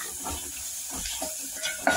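Spoon stirring red chilli powder and turmeric into a hot oiled pan for potato kachori filling, a steady close sizzle with soft scraping strokes and a brief louder clatter near the end; no one talks.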